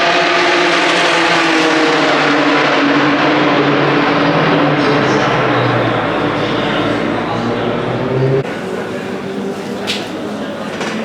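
Loud, sustained roar of GT500 race car engines revving and idling nearby in the pits at a motorsport festival, a dense mechanical drone that drops in level near the end.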